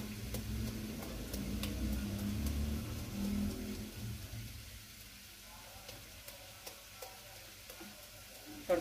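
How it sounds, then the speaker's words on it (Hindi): A tadka tempering for sarson ka saag sizzles in hot oil, starting with a louder, rumbling fry that eases after a few seconds into a quieter crackle with scattered small ticks. "तड़का भी तैयार हो गया।"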